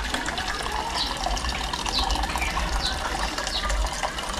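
Water pours into a cooking pot to make broth, a steady gushing splash running without break from start to finish, close by and moderately loud.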